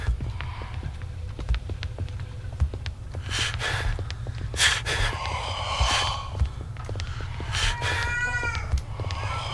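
Repeated cat meows and caterwauls from a frightened cat character in the horror video game Erie, several wavering cries spread over a steady low droning background, fairly close and clear.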